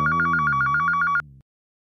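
A telephone rings with a fast trilling electronic bell in one steady burst close by, then stops abruptly, followed by a brief low tail and silence.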